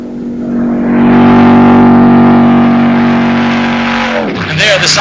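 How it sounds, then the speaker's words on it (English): A race car engine heard on board the car drones loud and steady, its tone slipping down near the end. A commentator's voice runs over it throughout. "Back on board, the engine seems to have smoothed out a little."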